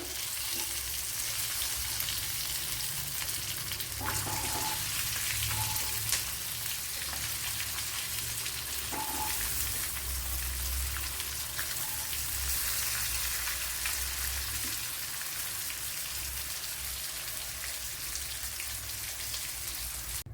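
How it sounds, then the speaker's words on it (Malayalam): Fish frying in a pan for a Kerala-style fish curry, Big Eye Scad in hot oil, gives a steady, dense sizzle and crackle that runs the whole time, with a few soft clatters of turning and no one talking. "ഇവിടെ മീനൊക്കെ ഫ്രൈ ചെയ്ത് വരുന്നുണ്ട്"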